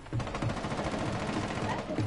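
Shotgun fire in a video game ringing out in rapid, loud bursts that blur into a dense barrage across the whole stretch, with players' voices faintly underneath.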